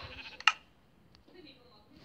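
A single short sheep bleat from Minecraft PE sounds briefly amid quiet game background noise, with a soft voice nearby.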